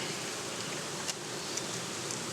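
Honeybees buzz around an open hive as a medium box is set back on, a steady, fairly close insect hum with a few faint taps and rustles; no one talks.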